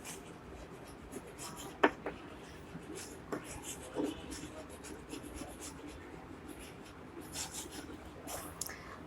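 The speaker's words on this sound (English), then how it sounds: "So we will write here time spent to do homework." Pen or pencil writing on paper while filling in a homework-time table for a fractions exercise, a soft continuous scratching with a few sharper taps, close and fairly quiet, with no talk over it.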